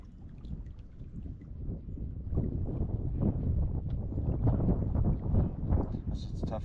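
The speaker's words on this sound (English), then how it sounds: "The wind's really starting to pick up." Strong autumn wind blows across an Adirondack lake at a canoe campsite, a steady low roar with gusty buffeting against the microphone that swells and holds throughout.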